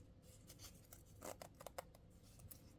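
Scissors snip through fabric zippers while sewing a heart-shaped pouch, several quick close cuts in a quiet room with faint background noise.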